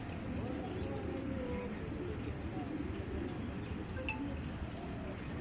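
Racing pigeons coo softly in a loft over a steady low background, with someone talking over the birds.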